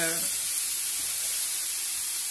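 Cassava sticks and vegetables cooking in a pan, a steady bright hiss and sizzle close up, continuous and fairly loud after a brief tonal sound at the start.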